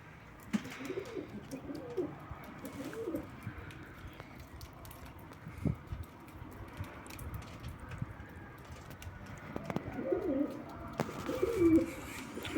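Soft, low cooing calls from a nearby bird come and go against quiet background noise, with a few faint clicks and knocks.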